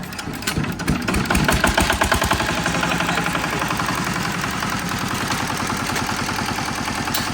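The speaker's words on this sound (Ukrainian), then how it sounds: "Дали трішечки газу, корба, декомпресор, два рази крутнули." A small engine is hand-cranked with the decompressor and a little throttle, then catches and settles into a rapid, even knocking chug that runs steadily close by.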